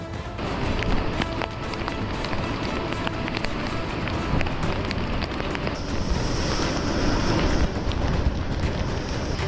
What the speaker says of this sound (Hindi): समंदर में उठती ये ऊंची ऊंची लहरें और शहर में घुसता इनका पानी ही कोहराम मचाने के लिए काफी नहीं था, जो तेज हवाओं के साथ बारिश भी होने लगी